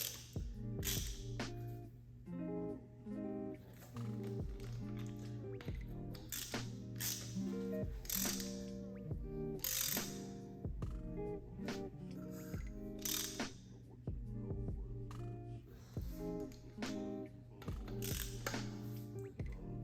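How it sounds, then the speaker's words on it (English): Bolts are tightened on an engine with a ratchet, heard as quiet repeated clicking and mechanical ratcheting bursts with metallic taps, close by and steady throughout. "Toss our nuts or our bolts in. Just gonna tighten it up a little bit."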